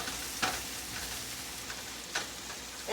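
Red potatoes with smoked sausage and bacon fry in a pan with a steady, close sizzle, broken by two sharp scraping stirs.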